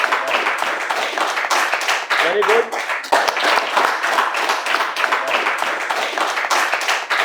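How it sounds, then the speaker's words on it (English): An audience applauds award winners at a school project showcase, steady dense clapping filling the whole stretch, with a brief spoken word of praise over it partway through. "Claps, guys."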